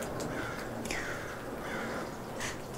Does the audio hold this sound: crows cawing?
yes